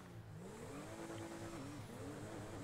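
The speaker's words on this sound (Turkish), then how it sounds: "Bir daha veriyorum marşı." Car engine in GTA 5 cranking and catching, then revving with rising and falling pitch, fairly faint and steady, alone with no voices.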